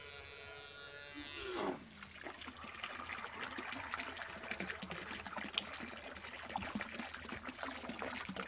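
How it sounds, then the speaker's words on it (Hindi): A Tullu water pump runs while submerged, churning and gurgling water in a steady trickling stream after a brief rising whine, with no talk. "देख सकते हैं पानी में डूबने के बाद भी ये वर्क कर रहा है टुल्लू पंप"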